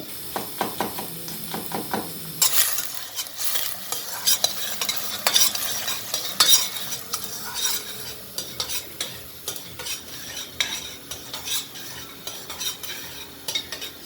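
Onions and green pepper fry in a pan for a fresh okra and meat dish, a steady sizzle broken by repeated sharp scrapes and clinks of a utensil stirring, close and fairly loud.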